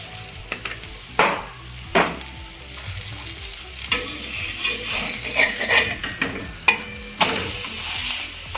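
Paratha brushed with garlic butter frying on a hot pan, a steady close sizzle broken by scraping and tapping of a spatula against the pan.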